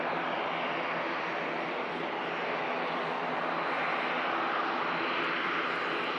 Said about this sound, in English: There's a loud plane and a loud airplane.